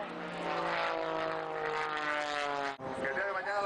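Low-flying airplanes perform aerobatic passes at an air show over the El Rejón dam in Chihuahua, a loud sustained propeller drone with shifting pitch that dips briefly near the end before resuming.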